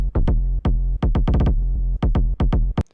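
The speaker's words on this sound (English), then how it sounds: "now you have that sweet bounce that you only get from a negative attack sidechain" A punchy electronic kick and bass pattern made in FL Studio with negative attack sidechain, pumping and bouncy, each hit swelling in quickly after ducking, loud and upfront with no voices.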